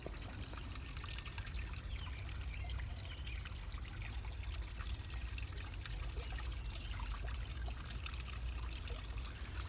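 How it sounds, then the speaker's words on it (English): Water flows and trickles in small channels from underground aquifers in a garden built on sand dunes, a steady soft babbling with faint irregular drips, continuous and fairly distant, with no voices. "little areas where the water is flowing"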